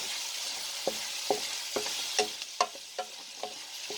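Onions and red peppers fry in a pan under a steady sizzle, with about a dozen sharp scrapes and taps from a stirring utensil at irregular intervals, close and moderately loud, with no talking.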